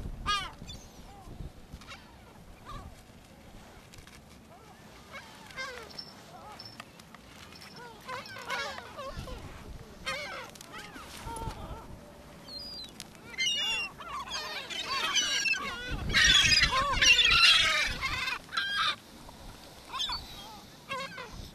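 Seagulls on a beach give repeated squawking calls near and far in irregular bursts, growing louder and denser toward the end, with a voice talking at times in between.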